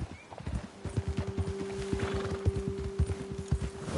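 Horses trot in the Red Dead Redemption 2 video game, a fairly close, steady clip-clop of hooves over about four seconds with a faint sustained tone running beneath.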